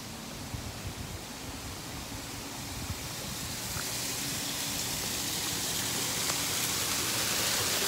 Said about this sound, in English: there's a waterfall over here. I'm sure you can start to hear it.